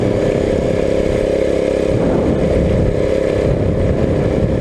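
A custom-built minibike's small engine runs steadily close by, a loud continuous buzzing drone with slight fluctuations in pitch and no speech over it.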